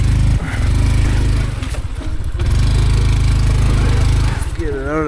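Honda Trail125 motorcycle engine droning loudly as it pulls a wheelie in swampy marshland, holding a steady rumble with a brief dip in the middle, then the revs rising and falling again near the end.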